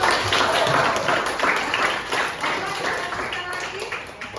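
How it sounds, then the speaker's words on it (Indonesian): Classroom applause in an Indonesian high school biology lesson, steady clapping from many students filling the room and slowly tapering off, with some voices mixed in. "Kita kasih tepuk tangan dulu"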